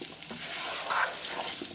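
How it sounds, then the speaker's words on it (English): Potatoes frying in a pan with cumin and spices on the stove: a steady, close sizzle with soft stirring scrapes, moderately loud and alone without talk. "Cooking for half minute, add potatoes, aloo, mix it well."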